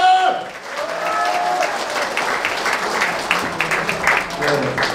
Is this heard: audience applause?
yes